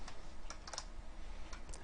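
Quick keystrokes on a computer keyboard set up for gaming, a few light clicks in uneven bursts, close and quiet with no talking.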